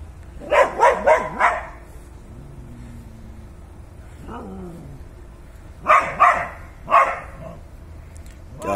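A dog barks at a cat in two bursts of three or four sharp, close barks, separated by a quieter stretch with low whining or growling sounds.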